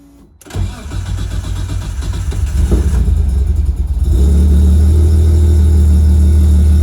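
A Nissan R33 drift car engine cranks and fires, then settles into a loud, deep, steady idle that grows fuller over a few seconds, close up with no voices.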